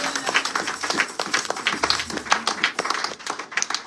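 A church congregation at a Sunday service applauds, steady rhythmic clapping from many hands with some voices mixed in.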